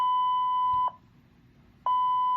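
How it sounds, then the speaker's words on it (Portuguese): Two identical short electronic beeps from an access control tag reader, a steady tone about a second long, then a brief pause before a second matching tone, set against a low background hum. "Deu 2 bips."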